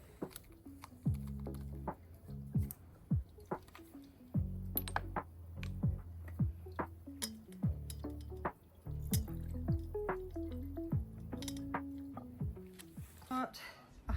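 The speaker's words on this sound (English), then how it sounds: "So we just turn the little tap on." Rosemary, eucalyptus and lemon hydrosol drips and splashes from the tap of a copper alembic's oil separator into small bottles, giving a quiet, irregular run of tinkling drops under a low background.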